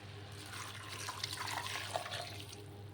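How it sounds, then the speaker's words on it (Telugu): Water pours steadily into a pot of fried toor dal curry, a soft continuous splashing gush over a low hum, close and brief. "అందులో సరిపడా వాటర్ వేసుకుందాం"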